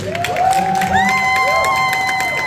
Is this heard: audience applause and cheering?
yes